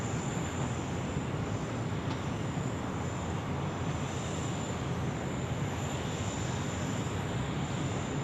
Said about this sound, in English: the Triple R now from Singapore Airlines about to pop it in on runway 16 right here